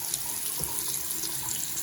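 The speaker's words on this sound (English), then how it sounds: "That's a big difference in how the water actually comes out of the faucet" Water runs from a bathroom sink faucet in a steady, close hiss with no talking, one of a pair of dual sinks.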